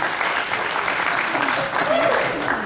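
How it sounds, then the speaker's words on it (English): An audience applauds after a Q&A panel with a television actor, a dense, steady clapping from a crowd that continues evenly throughout. "So big round of applause for you clever sods."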